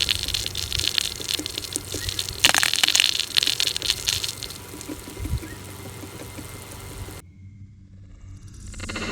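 A large wobble sled sprinkler fed by a garden hose sprays water in a steady, broad hiss with splashy pattering and a low rumble, close by and continuous, before cutting to near quiet.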